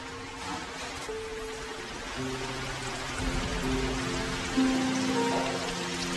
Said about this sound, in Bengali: ম্যারিনেট করে রাখা চিকেন ডুবো তেলে ছেড়ে দেওয়া হলো